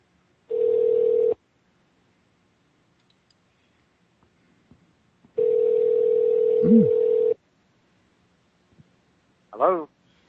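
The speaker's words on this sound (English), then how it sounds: "I'm going to go ahead and call him and try to raise him up on the phone real quick." An outgoing telephone call rings out with two long, even ringback tones separated by a pause, followed by a short burst of voice sounds near the end.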